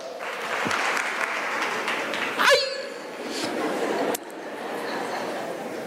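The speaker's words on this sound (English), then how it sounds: "Give him a round of applause" A crowd at a law career fair claps in a steady round of applause, with a sharp clatter midway and chatter and voices mixed in among the clapping.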